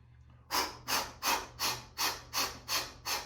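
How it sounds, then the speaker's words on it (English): Kapalabhati yoga breathing: eight sharp, forceful exhalations through the nose, evenly spaced in a quick steady rhythm, close and clear against a quiet room. "Feel that Kapalabhati. Enter into Kapalabhati."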